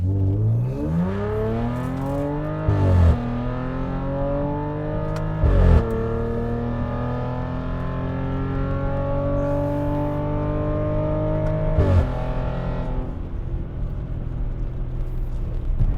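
A family SUV fitted with a swapped Lamborghini Urus exhaust revs up, the exhaust note climbing steadily in pitch over several seconds with a few sharp blips and crackles along the way, loud and close with no talking.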